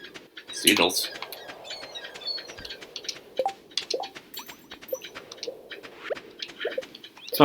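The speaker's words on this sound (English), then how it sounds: "Seagulls." Seagulls calling in the video game Stardew Valley, with a short burst of bright cries near the start followed by fainter scattered calls under someone talking.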